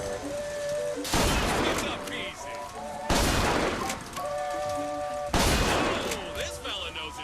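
Gunfire in the shooter Bioshock Infinite, three separate loud bursts of shots spaced a couple of seconds apart over game music and background sound, with a player talking.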